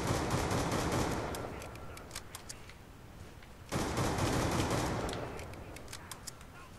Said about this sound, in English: I'm about to shoot like a madman here.